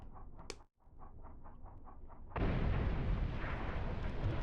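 Torpedo hits explode in the UBOAT submarine game, set on a 1942 Type VIIC/41 patrol. A soft rhythmic thumping gives way to a sudden, loud, sustained rumbling blast that continues to the end, with no voices.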